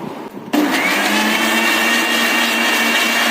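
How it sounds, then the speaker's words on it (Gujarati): A kitchen mixer grinder whirs loudly as it blends raw mango with mint leaves for aam panna, starting with a sharp jump and running as a continuous close roar. "હવે એમાં આપણે 2-4 પુદીનાના પાન એડ કરીશું અને પાછું એકવાર એને પીસી લઈશું।"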